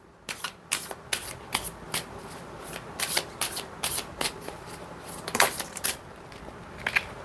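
Tarot cards being shuffled and falling, a run of crisp riffling bursts in an irregular rhythm, close and clear with no voice over them.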